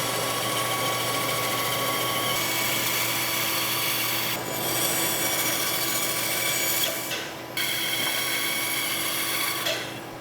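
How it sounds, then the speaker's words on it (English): A bandsaw cuts out a wooden spoon blank in a workshop, a steady motor whine with a continuous rasping cut, two brief dips in the middle where the blade eases off the wood. "we're going to go to the bandsaw here and cut that"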